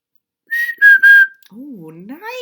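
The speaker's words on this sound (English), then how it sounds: "I didn't know you could whistle." A person whistles a few short high notes, three brief tones in a row, clear and close, followed by a voice speaking.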